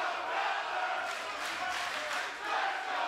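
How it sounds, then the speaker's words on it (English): A fight crowd at the 2300 Arena in South Philly roars and cheers steadily throughout, a dense wash of many voices with swells of louder shouting. "this crowd is absolutely electric tonight in South Philly, 2300 Arena"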